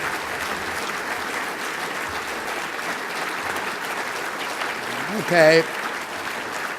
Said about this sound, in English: You can now give me a long round of applause.